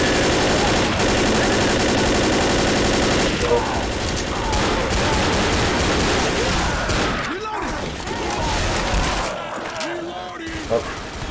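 Sustained rapid automatic gunfire and bursts in Left 4 Dead, loud and dense throughout, with players shouting over the shooting.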